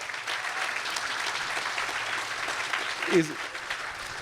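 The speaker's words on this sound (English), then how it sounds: "Give him a round of applause for that one" Crowd at an Armed Forces Day ceremony in Burr Ridge applauding Russell Smith, steady outdoor clapping throughout with a voice rising briefly over it near the end.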